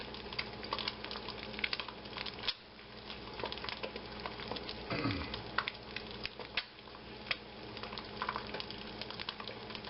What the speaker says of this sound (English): There's the egg in there. We'll let that cook a minute here.